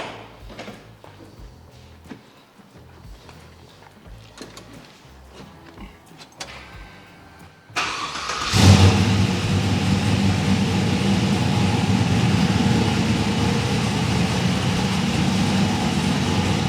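A 1971 Chevrolet Camaro RS muscle car, under respray, turns over after a stretch of quiet clicks and handling noises, then fires up and settles into a loud, steady, rumbling idle close by.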